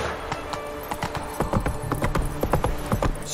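Hooves of the horse Roach clatter at a gallop in The Witcher 3, a quick, continuous clip-clop over a busy background of game ambience, fairly loud and close.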